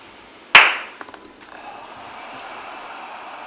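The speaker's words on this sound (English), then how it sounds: "I'll clap to indicate the change of breaths" A single sharp hand clap rings out alone in a quiet room during a breathing exercise, decaying quickly, followed by a few faint soft knocks and low room noise.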